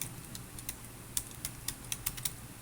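Computer keyboard typing while a simple recipe is entered into a word-processing document; a string of sharp, irregular key clicks, close and fairly quiet, with no talking.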